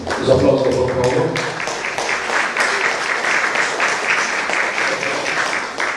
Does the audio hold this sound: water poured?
no